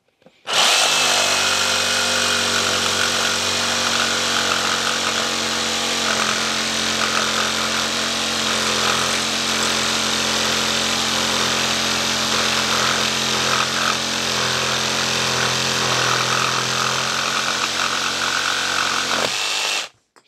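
A Ryobi R18JS7 cordless jigsaw cutting through 70 mm thick wood at maximum speed, a loud steady buzzing whine with a rapid reciprocating rasp held without a break from start to stop.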